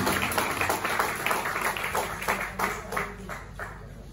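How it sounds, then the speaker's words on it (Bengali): An audience at a Moringo business-plan seminar applauding: dense, rhythmic clapping from many hands, steady and fairly loud for the whole stretch, with no one speaking over it. "তো কোর কমিটির কর্ণধার ব্ল্যাক ডায়মন্ডের জন্য এখানে ফাটিয়ে হাততালি হবে না?"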